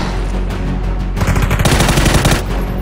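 Rapid automatic gunfire in the video game PUBG, loud dense bursts of rattling shots over steady game background noise, with no talk heard.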